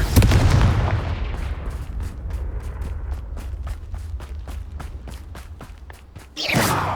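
A Confringo blasting spell from Hogwarts Legacy goes off as a loud burst at the start, followed by a series of sharp, rhythmic cracks and pops over low rumbling game ambience, with another bright blast at the end.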